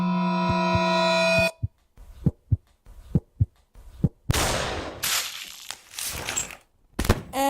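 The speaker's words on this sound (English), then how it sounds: "that's the sound of brain splattering everywhere." A gunshot cracks and then a wet brain splatter follows in The Cat Lady horror game, after a sustained tonal drone cuts out, leaving several sharp isolated hits and then a loud noisy burst of gore and debris sounds.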